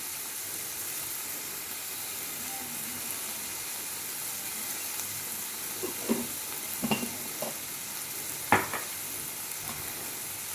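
Onions sautéing in a pan on a home kitchen stove with spices added, a soft, steady sizzle underneath a few clinks and stirring scrapes near the end, with no talking.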